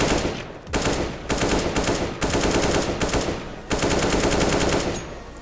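Bursts of AK rifle fire in CS:GO, several sustained automatic strings separated by brief pauses, loud and close with almost no talk.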